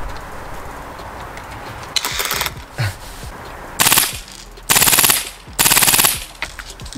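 Lancer Tactical M2 HMG airsoft gun firing several short full-auto bursts of rapid mechanical cracks, close and loud, with quieter single shots and handling noises between them.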